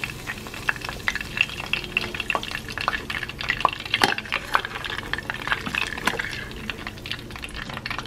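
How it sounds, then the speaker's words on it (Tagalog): Chicken pieces frying in hot oil for Chinese American orange chicken crackle and spit continuously with scattered sharp pops, close and steady, with no talk. "So, continue frying lang tayo."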